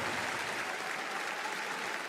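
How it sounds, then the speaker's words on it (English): Crowd applause at The International esports event, a dense, steady roar of clapping from a large audience, sustained without a break, no voices heard. "Let's get a big round of applause for Neta and Team Tundra."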